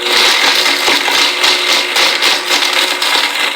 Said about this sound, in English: This is an awesome blender.